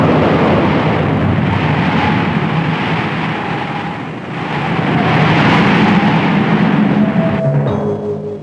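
A nuclear test explosion: a huge, sustained roar of blast and rushing wind, dense broadband rumble that swells and persists for several seconds with no voices.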